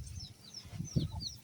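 Chickens, a hen with newly hatched chicks, give a few soft clucks and faint peeps close by, one clearer call rising briefly near the middle amid low background rustle.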